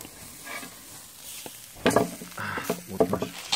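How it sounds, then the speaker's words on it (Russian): Quiet crackling and hissing sizzle of fat on a hot wooden serving board, with a few sharper pops and taps, growing busier toward the end, no talking. "Из нее сейчас будет шипеть жир."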